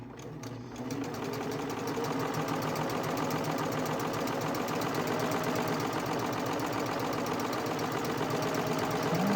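A serger stitches a rolled hem along fabric at a slow pace, its steady, rapid mechanical whir running continuously and fairly loud throughout with no talking.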